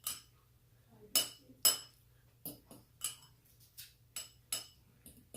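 Eggs being mixed for scrambling, a utensil clinking against a bowl in about a dozen sharp, irregular taps, quiet and close.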